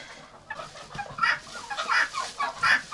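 A red Muscovy duck makes a run of soft, breathy hisses and short raspy calls close by on a farm, in quick uneven bursts with faint rustling between them.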